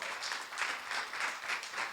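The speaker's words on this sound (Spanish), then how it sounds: "dale un aplauso al Señor" Congregation clapping for God at a revival church service, a steady rhythmic patter of many hands that swells and dips in regular pulses, moderately loud and without talk.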